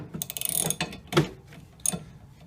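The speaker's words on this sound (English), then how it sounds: "We're just going to take a socket and a socket wrench and get these off here." A socket wrench ratchets nuts off windshield wiper arms in quick clicking bursts, several short runs of ratcheting separated by brief pauses, close and fairly loud with no talking.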